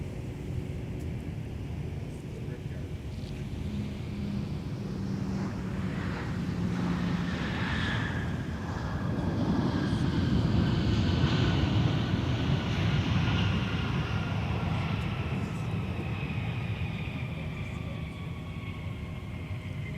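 A Sun Country airliner arriving from Indianapolis rumbles at MSP airport, a steady broad jet roar that swells and fades over twenty seconds, with wind noise and faint radio chatter.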